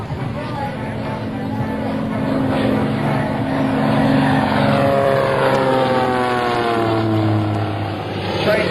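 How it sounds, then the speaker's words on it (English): A one-of-a-kind Pratt & Whitney radial-engine show plane rolls through repeated aileron rolls at low altitude during an air national guard open house, its loud propeller drone steady and shifting in pitch as it passes near. "horsepower Pratt Whitney engine powering this one-of-a-kind show plane"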